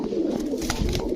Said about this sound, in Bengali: প্রথমেই একটা টাইগার বুদাপেস্ট মাদি কবুতর দেখাবো।